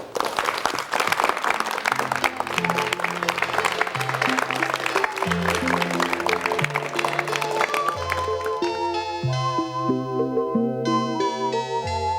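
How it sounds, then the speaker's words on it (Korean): A studio audience on a 1987 KBS Korean talk show claps steadily in welcome of a guest, a dense sustained applause that fades as gentle musical notes rise toward the end. "여러분 박수로 환영해 주시면 대단히 고맙겠습니다."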